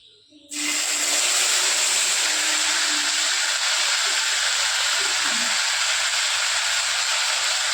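Ground spice paste drops into a hot pan while cooking soybean and pea-lentil kofta, bursting into a loud, steady sizzle and hiss that starts abruptly and holds constant, with faint low clatter beneath.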